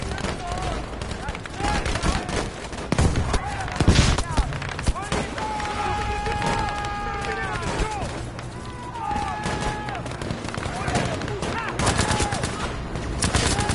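Rapid automatic gunfire and scattered shots crackle through a Battlefield V match, loud and close, layered with game sounds and the player's talking.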